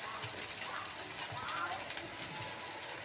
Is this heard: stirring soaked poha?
yes